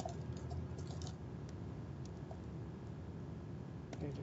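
Someone types on a computer keyboard with light, scattered key clicks. The clicks sit faintly over a steady background hum.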